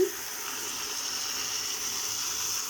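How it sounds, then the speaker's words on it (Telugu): Water pouring into a pressure cooker holding bottle gourd pieces with turmeric and salt, a soft steady stream running close by for a few seconds. "కొంచెం వాటర్ వేస్తున్నాను."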